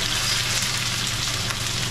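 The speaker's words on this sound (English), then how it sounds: "And allow this to fry up a little" Food fries in a pan with a continuous, dense crackling sizzle, close and steady throughout, with no voices.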